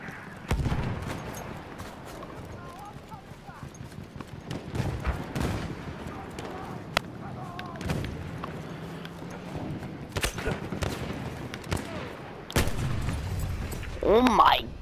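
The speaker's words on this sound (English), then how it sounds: "Martini Henry sounds like a giant cannon when you put it at 300 meters." Martini-Henry rifle shots fired from a distance in a multiplayer shooter game, mixed with other gunfire. Sharp booming cracks come at irregular intervals over ongoing battle noise, with voices talking during the shots.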